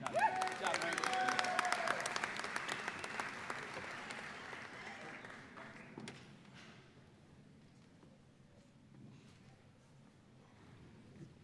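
A crowd at a 2022 university commencement ceremony applauds business graduates, with full clapping that thins out after about six seconds into scattered claps and background murmur.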